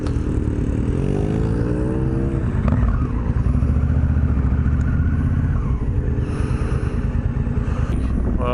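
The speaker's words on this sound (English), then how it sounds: "So the road boys are taking off one way, the dirt bikes are taking off another." Several road motorcycles and dirt bikes pulling away together, engines revving and rising in pitch through gear changes, a loud layered roar that stays near and steady throughout.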